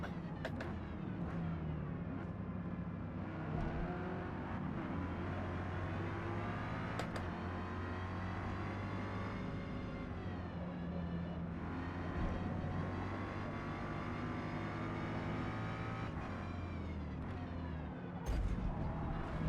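A V8 race car engine in the Forza Motorsport game, on a Heritage Combustion Tour race, drones loudly and steadily for the whole stretch, its pitch rising and falling with gear changes.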